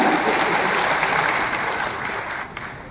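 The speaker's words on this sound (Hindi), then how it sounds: "एक बार जोरदार तालियों के साथ स्वागत।" Warm, steady applause from a seated audience welcoming a guest at an official event, many hands clapping in a dense even roar that fades slightly near the end.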